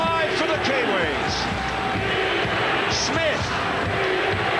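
A stadium crowd at a 1997 rugby league match between New Zealand and Queensland at Ericsson roars steadily for the Kiwis, a continuous wash of cheering and shouts with commentary voices over it.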